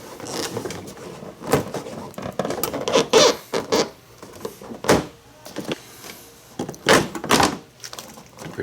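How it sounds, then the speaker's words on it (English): A stainless steel rock screen comes off the rear of a DeLorean, with sharp metallic clanks, knocks and rattles in irregular bursts, close by and separated by quiet gaps. "just go ahead and remove the rock screen"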